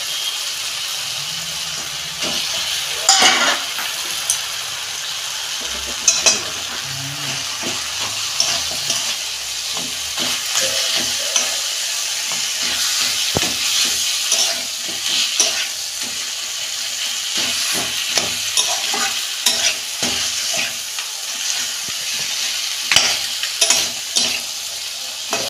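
Two fish heads fry in a pan with cabbage for a Bengali dish, giving a continuous soft sizzle with repeated scraping stirs and sharp spatula clinks, close and moderately loud, with no talking.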